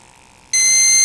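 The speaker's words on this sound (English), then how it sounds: "of course it's flashing, making a really annoying beeping sound" GMI PS200 portable multigas detector in low-oxygen alarm: a loud, shrill electronic tone begins suddenly after a quiet moment and holds steady, close and piercing, with no talking.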